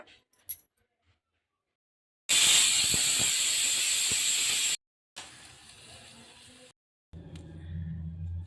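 A kitchen pressure cooker cooking fenugreek pulao lets out a loud, steady hiss of escaping steam for about two seconds, followed by a quieter steam release and then softer bubbling, heard close with no talk.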